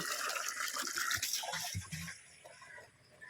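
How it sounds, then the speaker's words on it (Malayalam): Water rushes from a tap into a container, loud and close at first, then thinning and quieting toward the end. "വെള്ളം കൂടി ഒന്ന് പെട്ടെന്ന് നിറയ്ക്കട്ടെ കേട്ടോ"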